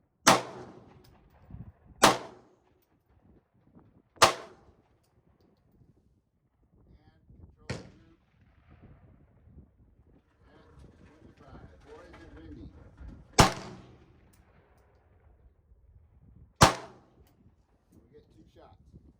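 Pistol shots from a Remington Model 51 fired at a target at 15 in a slow control group: six sharp cracks spaced a few seconds apart, moderately loud outdoors, with quiet handling noise between them.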